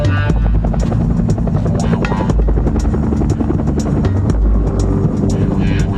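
Bell UH-1 Huey helicopter in flight, loud and close, with the rapid, steady chopping thump of its rotor blades sustained throughout.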